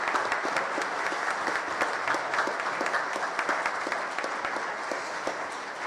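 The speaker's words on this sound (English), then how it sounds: "let's give a big round of applause for John Bon" A crowd applauds Jon Bon Jovi at an outdoor Walk of Fame induction ceremony in Red Bank, dense steady clapping sustained for several seconds with scattered sharp individual claps, moderately distant.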